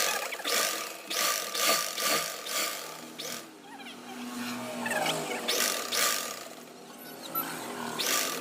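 A sewing machine stitches a size 34 blouse, its motor running as a steady, close mechanical whir with rhythmic pulsing throughout, no talking.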